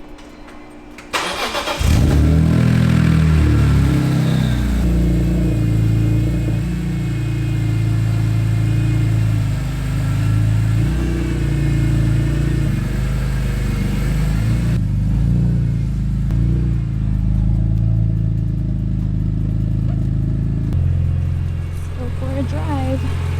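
A BMW E46 car engine starts up and runs steadily as the car pulls out, loud and close, with people talking briefly over the engine noise.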